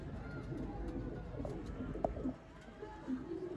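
Sialkoti pigeons in a breeder's loft cooing, soft low coos repeating over a steady background hum, fairly faint and close by.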